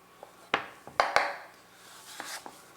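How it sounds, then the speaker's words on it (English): Knife chopping butternut squash on a cutting board for roasted soup, a few sharp knocks spaced irregularly over a faint background, close and fairly quiet. "a little tip when you're chopping, cut one side off, put the flat side down"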